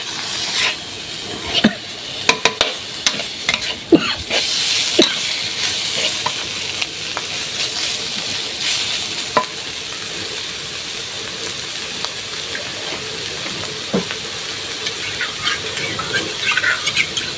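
Pork offal and cumin leaves stir-fried in a hot pan, a steady sizzle with scraping stir strokes and clanks spread through the clip, close and fairly loud, with no talking.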